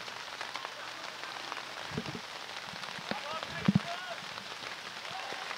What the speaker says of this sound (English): Rain's starting to pour down right now.